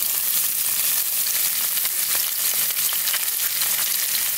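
Minced garlic and onions sauteing in half a stick of butter, a loud, close and continuous sizzle with fine crackling throughout and no voices over it.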